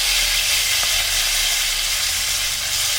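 Chopped tomatoes sizzle in mustard oil in a kadai while mutton kosha is being made, a loud, steady, close hiss that carries on without a break.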